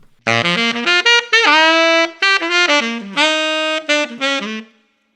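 A solo saxophone plays a jazz lick slowly and clearly, a run of distinct sustained notes stepping up and down, close and dry, ending in silence.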